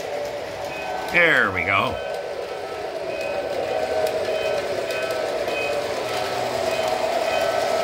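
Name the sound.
model train running on a layout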